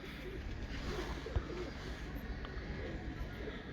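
Breeder pigeons coo softly in low, murmuring calls over a steady background rumble, with one brief sharper sound partway through.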